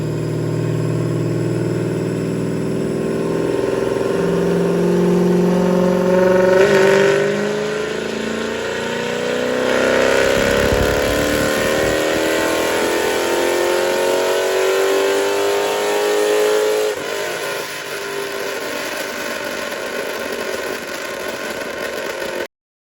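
An SRT 300 car engine revs hard on a dyno with nitrous, a loud sustained roar whose pitch climbs steadily through a long pull before backing off near the end.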